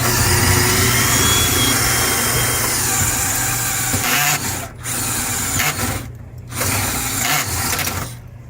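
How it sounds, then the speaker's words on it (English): Power drill boring a hole during a vending terminal installation, a loud steady whirring grind that pauses briefly twice before resuming, close up with no speech. "So with that, we're going to drill a hole"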